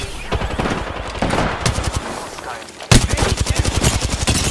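Rapid automatic gunfire rattles in Apex Legends gameplay, loud sustained bursts with a brief pause before a fresh volley near three seconds.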